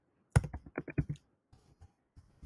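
Quick bursts of typing on a computer keyboard, a rapid run of close, crisp key clicks followed by a few sparse, fainter taps, with no talk.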